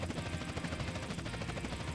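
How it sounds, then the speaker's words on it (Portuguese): A helicopter in GTA San Andreas multiplayer roleplay, a steady, dense rotor and engine drone with a fast pulsing chop, loud and close and unbroken for the whole stretch, without talk. "O helicóptero detectado."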